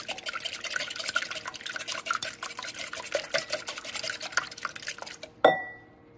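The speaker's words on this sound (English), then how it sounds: "Grab the different whisk. I'm gonna lightly beat these eggs." A whisk lightly beating four eggs in a bowl, with a rapid, steady clicking and sloshing against the bowl that stops abruptly with a final clink.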